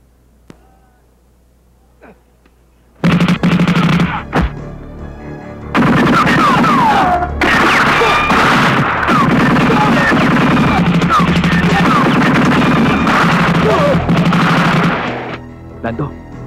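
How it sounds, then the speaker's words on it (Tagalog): Gunfire from an action film, bursts of shots and rapid fusillade-like volleys rattling loudly across most of the stretch, mixed with music and effects, after a quiet opening. "Putok ng baril niya."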